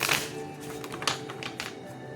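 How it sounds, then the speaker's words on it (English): Tarot cards being shuffled by hand, a quick series of soft riffling taps and flutters close up, fairly quiet and with no talking. "They're already really well shuffled, but I'm going to shuffle them anyways."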